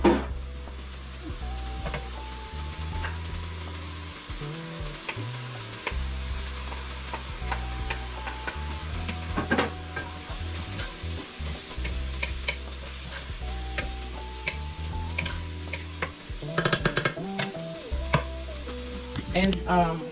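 Sliced pork hotdog fries in a pan for spaghetti, sizzling steadily while a utensil scrapes and stirs in repeated bursts, close and fairly loud, with no talking.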